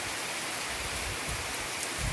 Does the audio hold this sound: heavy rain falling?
yes